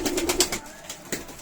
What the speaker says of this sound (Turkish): Bu kuşlara 15 gün idman verecekler